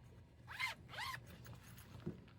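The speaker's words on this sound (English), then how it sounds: "even another storage zipper in the top" A padded welding backpack's zipper is pulled in two quick rasping strokes, close and clear, followed by a faint soft tap.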